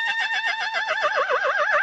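A horse neighs in one loud, close, quavering whinny that wavers up and down for about two seconds, heard on its own.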